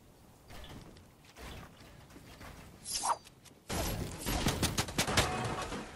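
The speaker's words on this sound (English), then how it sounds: "He's shooting." Bursts of automatic rifle fire in Fortnite, starting as faint scattered shots and growing into a dense, louder volley in the second half.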